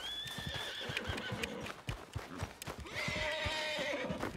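Horse in the video game Red Dead Redemption 2 whinnying twice with clip-clopping hooves between the calls, fairly close over quiet game ambience.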